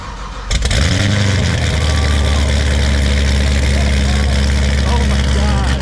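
A Lamborghini Aventador SVJ cold-starts with a sharp burst, then settles into a loud, steady high idle that fills the space, with voices talking over it.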